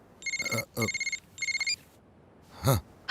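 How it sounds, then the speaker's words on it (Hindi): A phone ringtone trills in three quick bursts of rapid electronic pulses, followed by a brief breathy sigh. "phone uncle"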